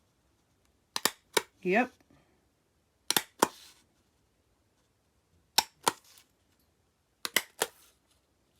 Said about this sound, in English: See if my hole punch will go through all of it.